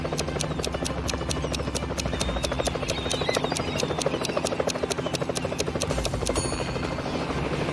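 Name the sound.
helicopter flying over a pool, animated puzzle video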